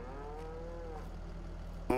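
A cow in a barn lets out a single long, drawn-out moo over a steady low background hum, followed by a sudden short clatter at the end.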